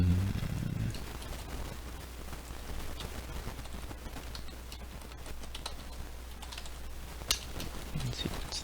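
Steady run of key taps on a computer keyboard during a Python coding session, close and fairly quiet, continuing for several seconds with a few sharper clicks.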